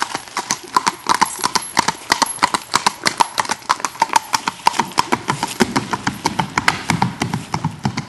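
A ridden Tennessee walking horse moves along outdoors near a creek, hooves striking in a quick, even clip-clop rhythm of sharp close taps, steady for the whole stretch, with faint background sounds.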